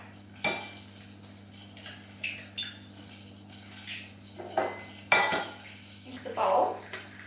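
Eggs cracked on a bowl rim for madeleine batter, giving a few short, sharp taps and clinks in a quiet kitchen with a low steady hum underneath, spaced out over several seconds.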